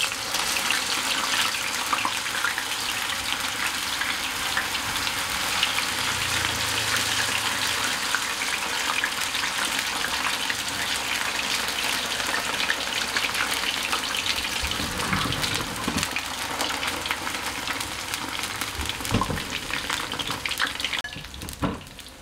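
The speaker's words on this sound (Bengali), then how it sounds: "এবার আমি এক একটা করে আলু এইভাবে এতে ভাজতে থাকবো।" Battered tornado potatoes fry in hot oil over low flame, a steady, loud, dense sizzle and crackle lasting throughout with no talking.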